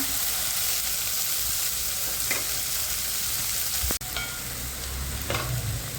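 Tomatoes sizzle and fry steadily in a hot pan, a constant close hiss with a few stirring scrapes and one sharp clatter of a utensil partway through.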